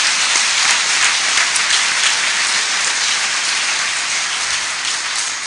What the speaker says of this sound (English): let's give all these men that have come tonight a round of applause